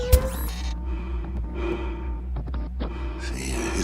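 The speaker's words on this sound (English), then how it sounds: "See, his breathing sounds good." Robot breathing in a sci-fi radio drama, a sharp initial click followed by soft rhythmic breathy hums and faint mechanical tones, quiet and close, with no talk.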